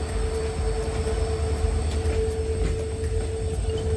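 Trains rumble past on the railway near Dudhsagar, a steady low roar of wheels on track with a faint sustained tone, continuous and fairly close throughout.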